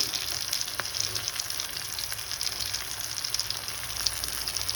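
Ginger garlic paste frying in hot oil for a cashew paneer butter masala, a steady close crackling sizzle with no talk.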